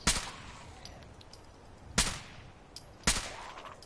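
Gunfire in the video game Fallout 4: three sharp, loud single shots about a second apart, each with a short decaying tail, over a faint background.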